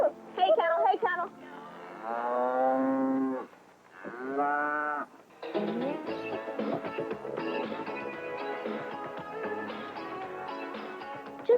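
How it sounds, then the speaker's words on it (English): Ranch beef cattle low with long, drawn-out moos while being driven to holding pens for inspection, several loud calls in a row followed by shouting and bustle from the herd and handlers. "Here, they help drive the cattle to holding pens for routine inspection."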